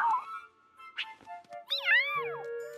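A cartoon cat in a bakery kitchen lets out a few meows, including one long, rising and falling meow, set against a quiet background with small clicks and sparkly effects.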